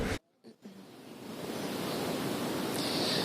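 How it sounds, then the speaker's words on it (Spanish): A dense, steady wash of applause from a crowd, building after a brief silent gap and holding at a constant level. "Este es el sonido de un aplauso que se dio hace un mes o hace 3 semanas."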